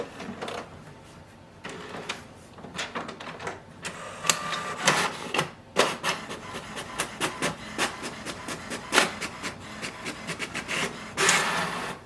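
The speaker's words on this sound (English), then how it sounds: "our printer has done the printing and scanning" An HP Smart Tank 7301 printer runs through a print job, with a busy sequence of mechanical clicks, whirs and rubbing paper-feed strokes in irregular bursts, close and fairly loud.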